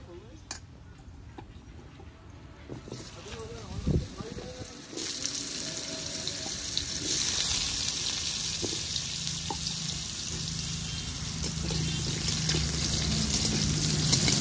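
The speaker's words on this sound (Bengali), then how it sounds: "এবার আলু ভেজে নেব।" A loud, steady sizzle of potatoes frying in hot oil in a pan builds and holds, with a few clinks near the start.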